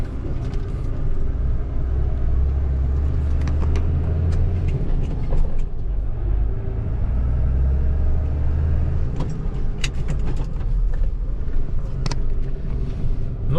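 A ZIL-130 truck drives along a rough village road, its engine a loud, steady low rumble with rattling knocks and jolts from the uneven surface, heard from inside the cab.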